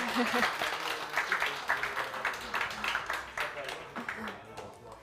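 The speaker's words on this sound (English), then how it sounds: "Yay, more applause, more applause." Steady crowd clapping fills a hall at a live demo day gathering in Kyiv, a dense patter of many hands throughout, with a voice briefly heard at the start.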